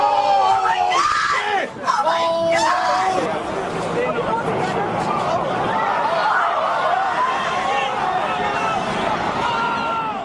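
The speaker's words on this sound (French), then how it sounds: "Sur des vidéos amateurs, la bande-son est saturée pratiquement en permanence par les cris des gens autour de la caméra." Crowd of people yelling and screaming close around a handheld camera during the 9/11 attacks, a dense, continuous wall of agitated voices with sharp cries rising above the din, loud throughout.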